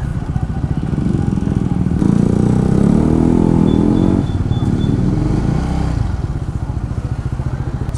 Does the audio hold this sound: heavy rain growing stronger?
no